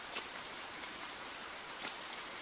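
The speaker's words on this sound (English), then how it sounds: "It's raining heavily." Heavy rain pours in the video game The Bathhouse, a dense, even hiss of downpour that stays steady and close throughout with no voices over it.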